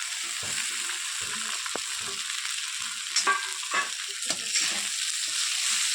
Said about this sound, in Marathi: आता बघा मी पोहे टाकत आहे